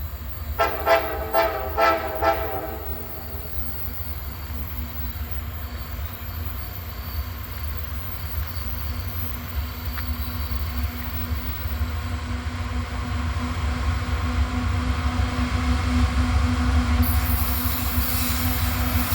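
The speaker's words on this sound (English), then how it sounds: "SCWS coal train. This one unloads in South Carolina over near Myrtle Beach, Georgetown area." An SCWS coal train rolls past a trackside spot in Abbeville, opening with several short horn blasts, then a steady, loud rumble of wheels and cars that builds toward the end, with a brief high squeal near the close.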